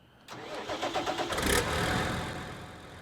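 A New Holland tractor fitted with wide tires and weights in Farming Simulator 19 cranks briefly and starts, settling into a steady, moderately loud running idle with no talking.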